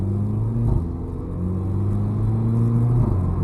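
Engine of a remapped 250 BHP VW Polo GTI 6C heard from inside while driving at about 30% throttle, a steady low rumble with a shifting drone that rises and dips slightly, no speech over it.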